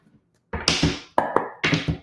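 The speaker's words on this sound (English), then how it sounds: "I need one more shuffle." Three quick bursts of riffling tarot cards being shuffled, each a short flurry of taps, separated by brief pauses in an otherwise quiet room.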